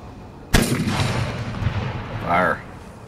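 A single loud, close gunshot cracks out, followed by a rolling boom and echo, with a brief shouted voice near the end, set amid a battle scene with men firing.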